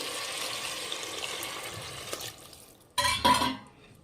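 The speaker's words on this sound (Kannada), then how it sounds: "2 ಗ್ಲಾಸ್ ನೀರು ಹಾಕ್ಕೊತಾ ಇದ್ದೀನಿ." Water splashes and gurgles as two glasses are poured into a pot of rice, a quiet stir first, then a louder burst of pouring near the end.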